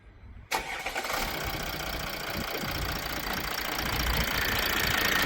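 A Mercedes W211 cranks briefly, catches with a loud start, then settles into a steady, close idle that swells slightly toward the end.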